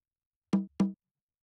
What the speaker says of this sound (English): And the third conga sounded this way.